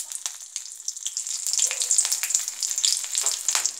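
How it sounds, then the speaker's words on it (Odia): Two green chillies fry in hot oil with spluttering mustard seeds, a loud steady sizzle full of rapid pops and crackles, close up with no talking. "ସୋରିଷ ଫୁଟିଲା ପରେ କଞ୍ଚା ଲଙ୍କା ଦୁଇଟା।"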